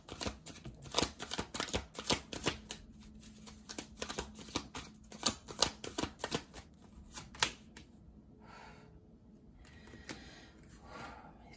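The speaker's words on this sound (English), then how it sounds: "While I was shuffling the cards, everything felt so rigid." Tarot cards are shuffled in repeated quick riffles and snaps, crisp and close, with a few softer sliding shuffles trailing off toward the end.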